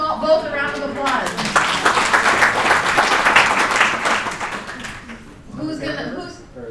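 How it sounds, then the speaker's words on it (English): Audience applause during a dementia and vision workshop as two participants come forward, a few seconds of clapping rising under speech and fading out as talk resumes. "let's give them all, both a round of applause"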